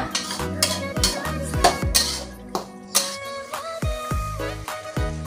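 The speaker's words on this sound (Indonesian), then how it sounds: "Kita aduk sebentar supaya merata nih perasanya." Metal utensils clatter and scrape against a pan while stirring a tempeh and long bean stir-fry in quick, uneven strokes, a near and fairly loud stirring with no talking.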